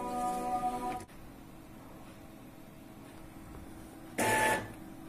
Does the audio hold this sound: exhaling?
no